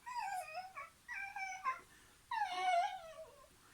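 A voice imitating a dog whimpering in a car, three drawn-out, high, wavering whines with short gaps between them, close and fairly clear.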